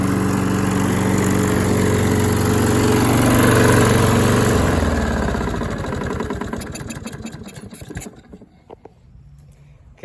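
Cold start of a Husqvarna HU700F lawn mower engine with auto choke, unused for over two months: a loud, steady close-up running drone that loses power and sputters down to a near stop by the end.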